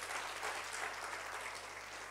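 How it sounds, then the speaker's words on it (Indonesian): A church congregation applauding during a sermon, steady dense clapping from a large group heard at a distance, soft but continuous throughout, with no speech on top. "Tepuk tangan dong buat Tuhan."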